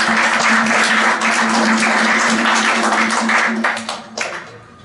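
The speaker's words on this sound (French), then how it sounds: "applaudissez-les d'avoir fait ce projet." A congregation at a Sunday church service applauds, a loud, close burst of many hands clapping that holds steady and then fades out toward the end.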